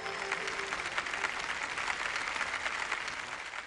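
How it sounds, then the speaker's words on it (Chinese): An audience in a lecture-hall television studio claps steadily, a dense, even wash of applause that holds at a constant level throughout, with no voices over it. "掌声有请"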